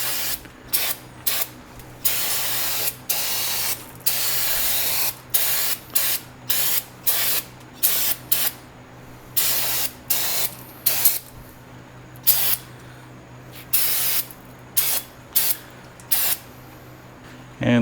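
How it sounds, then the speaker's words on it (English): Brake cleaner sprayed onto the brakes of a 1986 GMC square-body truck in repeated loud, close hissing bursts, each a second or two long with short gaps between, and no talking. "So now I'm going to spray this down with brake clean."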